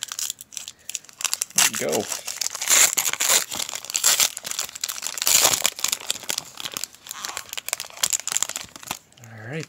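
A 2013 Topps Tribute World Baseball Classic card pack of thick-stock cards being torn open, with steady close crinkling and tearing of the wrapper and a short spoken remark over it.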